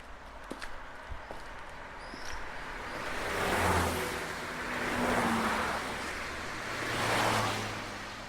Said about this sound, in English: cars were zooming by